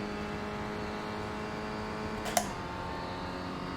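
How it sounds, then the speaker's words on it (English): A race car engine in the iRacing sim held steadily near redline on a straight, a constant high-revving whine with dense harmonics, with a brief sharp click partway through. "So we're going to redline it, we're not going to hit the rev limiter"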